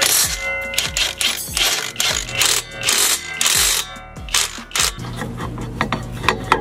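Ratchet wrench clicking steadily while loosening the large brake caliper bolt on a Nissan 370Z, a close, busy run of metallic ratcheting with short pauses between strokes.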